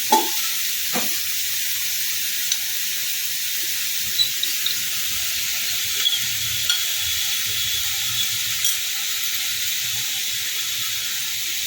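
Momo stuffing sizzles and fries steadily in a pan while being stirred with a cornflour slurry, a continuous hiss with occasional soft scrapes and clinks from the spoon, no talking.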